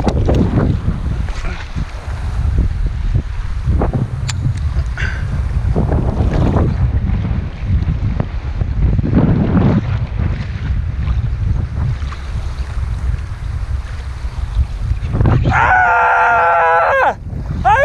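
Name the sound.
strong wind during fishing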